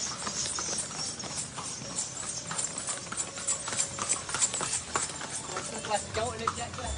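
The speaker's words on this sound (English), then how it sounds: "everything that you use when you vacation on the Gili Islands is carried by a horse cart" A horse pulling a cart on the Gili Islands clip-clops in a steady hoof rhythm that carries on throughout, with a person talking over it.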